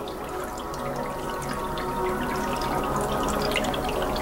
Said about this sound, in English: Got it going through my bubbler here